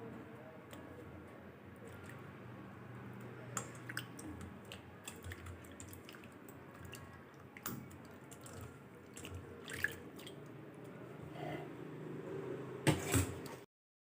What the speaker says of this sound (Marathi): आता हे मी पाण्यामध्ये टाकते. याला पाण्यामध्ये स्वच्छ धुवून घ्यायचं आहे.